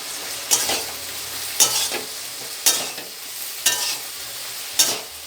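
Taro pieces with salt and turmeric are stirred in a pan, with five evenly spaced scraping strokes standing out over a soft background sizzle, close and clear with no talking.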